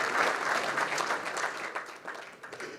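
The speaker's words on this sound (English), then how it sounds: "If we could just get a round of applause for them." A crowd claps steadily, a dense round of applause that gradually thins and fades.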